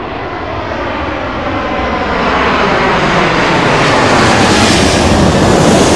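Boeing 777 airliner on arrival at Heathrow passing overhead, a loud, rising jet roar swelling as it nears, with broad rushing engine noise and no voices.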